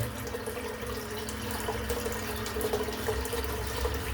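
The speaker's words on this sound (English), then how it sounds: "Add a bit of water to my head." Water runs from a tap in a barbershop during a head shave, a soft, steady stream with faint splashes and trickles, moderately quiet and continuous with no talking.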